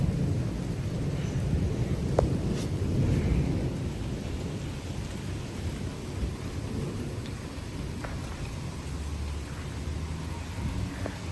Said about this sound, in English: these gusts are still pretty strong